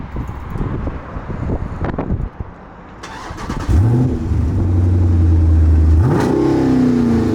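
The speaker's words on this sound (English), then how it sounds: "Let's start it up again." A Jeep Grand Cherokee 6.4 SRT cranks and fires up. The loud V8 catches with a bark, settles into a rumbling idle, and then revs sharply near the end.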